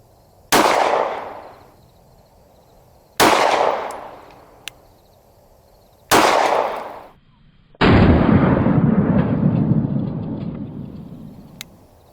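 A Sig Sauer P365 pistol fitted with a Faxon compensator fires four loud, close shots spaced a few seconds apart, each a sharp crack with a decaying echo, the last followed by a long rumbling tail.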